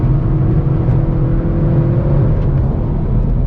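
A 2022 Hyundai Veloster N hot hatch with an 8-speed dual-clutch gearbox drives hard on a race track, its engine a loud, steady droning hum heard from inside the cabin.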